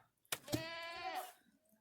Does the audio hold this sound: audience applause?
no